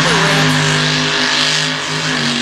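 Race truck engine roaring steadily on a dirt track at an all-star championship event, loud and close with sustained harmonic drone and slight pitch shifts, commentator's voice faintly beneath.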